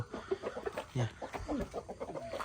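Young chicks and hens clucking and peeping at a home flock, with busy overlapping calls close by and a few louder clucks throughout.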